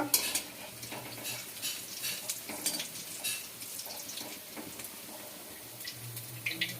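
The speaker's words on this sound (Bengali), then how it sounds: "আর এই কোপ্তাগুলো ভাজা হয়ে গেল" Paneer koftas fry in oil with a soft, low sizzle under frequent clinks and scrapes of a utensil in the pan, quiet and close with no voices.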